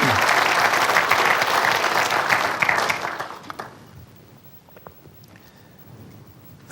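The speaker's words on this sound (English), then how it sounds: "We should give them a big round of applause, too" An audience at a 2015 State of the City address gives a big round of applause, loud and full for a few seconds before fading into scattered claps and quiet room noise.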